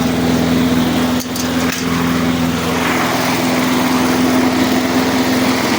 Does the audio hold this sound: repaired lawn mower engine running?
yes